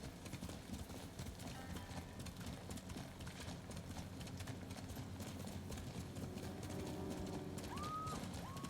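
Horse hooves clip-clopping in the Ghost of Tsushima video game, a steady quiet trotting rhythm under ambient game sounds, with a brief tonal chirp near the end.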